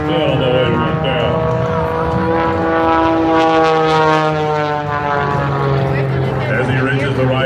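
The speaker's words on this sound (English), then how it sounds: "he takes the airplane into the vertical one more time" A propeller aerobatic airplane, the Lucas Oil Special, performs at the Wings Over Wayne air show in Goldsboro, North Carolina, its engine droning loudly and steadily with shifting pitch as it climbs, while an announcer talks over it.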